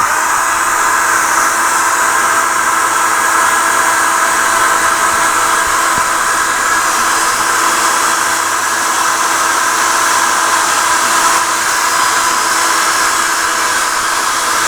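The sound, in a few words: hairdryer melting wax on carved wood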